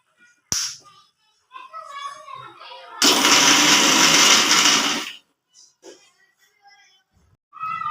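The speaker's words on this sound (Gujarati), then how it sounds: "મારી પાસે આ રીતનું મિક્સર છે એટલે હું આવી રીતે પીસી લઈશ" A kitchen mixer grinder whirs loudly for about two seconds, churning potato and sago vada ingredients in one steady burst, with someone talking before and after it.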